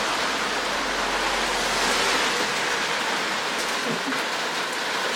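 Steady rain falling outdoors at Loch Fyne, a loud, even hiss that runs unbroken throughout.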